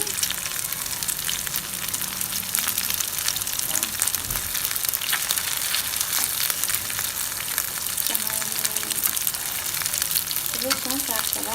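Pan kebabs frying in hot oil in a frying pan give a steady, dense sizzle and crackle that stays loud and close for the whole stretch, with a few faint scrapes and pops near the end and no talking.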